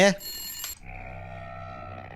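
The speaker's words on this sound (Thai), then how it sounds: "โทรศัพท์เข้า" A telephone ringing in The Elevator, a horror game set in Hotel 616: a brief voice at the very start gives way to steady electronic ringing tones whose pitch shifts partway through, fairly close and clear.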